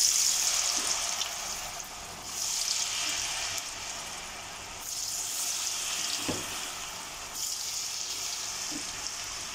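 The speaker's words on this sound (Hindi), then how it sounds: "मेरा तेल भी जो है वो गर्म हो गया। अब मैं इसमें ऐड कर दूँगी ये फ्राइज" Potato fries frying in hot oil, a continuous hissing sizzle that swells and fades in waves, with an occasional clink of a utensil and no talking.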